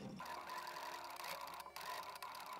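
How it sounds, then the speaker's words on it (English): A sewing machine stitches fabric petals onto a 1930s-style hydrangea quilt block, a few stitches at a time; a faint, steady mechanical whir runs throughout at a quiet level. "Just do a few stitches at a time"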